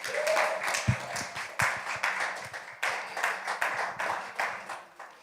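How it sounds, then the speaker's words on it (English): Audience applause for Black women at a live-streamed community event, a modest round of clapping from a small group, uneven and swelling in bursts with some louder nearby claps. "let's give a huge round of applause to all the Black women in our lives"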